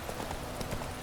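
Horse hooves galloping in The Witcher 3: a quick, steady clip-clop of hoofbeats in a busy game soundscape, continuous and moderately loud over about a second.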